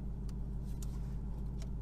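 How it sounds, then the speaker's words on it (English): A car engine idles steadily after a cold start, having sat unused for a week. It gives a loud, close, even rumble with a few brief clicks or ticks on top and no speech. "this cold start sounds even more amazing when it hasn't been started in a week"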